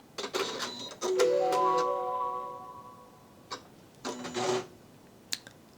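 An embroidery machine powers back on, giving a few clicks and then a rising sequence of steady start-up tones, followed by scattered mechanical clicks and brief whirs, close and fairly clear with no talk.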